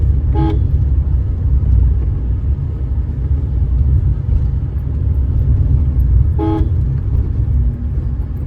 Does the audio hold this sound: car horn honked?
yes